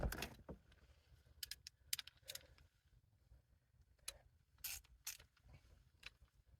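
A torque wrench tightens the lug nuts on an RV wheel to 110, producing faint, quiet ratcheting clicks and short metallic mechanism bursts scattered irregularly over a low background hum.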